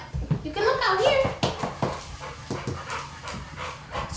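A dog panting and shuffling about indoors, quick breathy pants and soft movement close by, with people talking over it.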